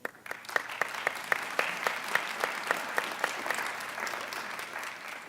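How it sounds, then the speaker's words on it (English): At a community summit, audience applause starts up with a run of rhythmic, synchronized claps, then loosens into a steady, moderately loud wash of clapping with no voices. "I think that deserves a round of applause"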